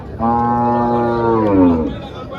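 A single long, loud moo from a nearby milking cow at the Chalisgaon cow market, rising and then fading away over about two seconds.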